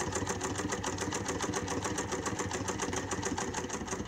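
A Singer 99 hand-crank sewing machine stitching, a quiet, smooth and fast even whir with regular rapid needle ticks, running steadily and alone.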